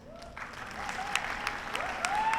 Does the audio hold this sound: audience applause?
yes